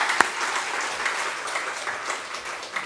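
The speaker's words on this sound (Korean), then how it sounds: "우리 영광의 박수 한번 돌립시다." A congregation at a church service gives a short burst of applause for God, steady dense clapping lasting a few seconds at moderate level.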